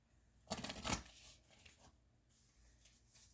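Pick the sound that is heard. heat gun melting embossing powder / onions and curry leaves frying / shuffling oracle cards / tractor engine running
shuffling oracle cards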